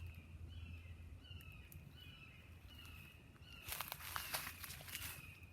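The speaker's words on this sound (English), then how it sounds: "Do you hear that bird?" A bird repeats a short, high call several times in the distance, followed by close footsteps crunching on a trail.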